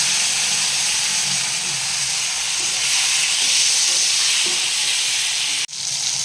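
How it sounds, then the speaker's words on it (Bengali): Spices stir-fried in a pan with ginger and mustard for a sweet ridge gourd shukto, giving a steady, loud, close sizzle and hiss that runs without a break, then a brief sharp scrape near the end. "এবার আমার ভেজে রাখা মশলাগুলো আমি এতে দিয়ে ভালো করে কষে নেব।"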